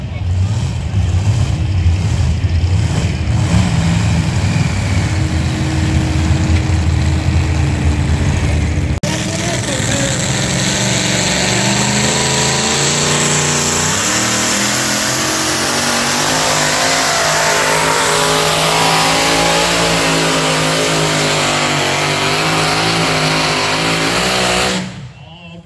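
An alcohol-fueled two-wheel-drive pulling truck roars loud and close, its engine revving hard and climbing in pitch through a long sustained pull before cutting off at the end.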